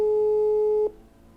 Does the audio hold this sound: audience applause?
no